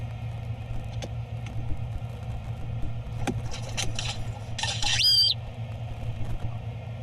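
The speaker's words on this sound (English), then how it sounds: "Why is there a bird up the camera?" A bird squawks close to a camera, giving sharp, brief cries over a constant low hum and rumble, followed by one louder chirping burst.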